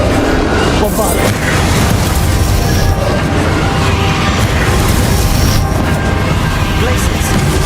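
Bombarda spell blasts during a Hogwarts Legacy duel against Ranrock: loud, continuous booming and crashing impacts with a talking voice over the din, sustained throughout.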